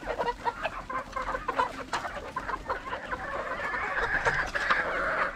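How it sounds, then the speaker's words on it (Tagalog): Four-month-old pullets cluck and chatter in a poultry farm, a dense busy flock heard close and continuous, with overlapping soft clucks and calls throughout and no talking. "Ganda ng mga pulit. 4 months old pulit, parang early matured."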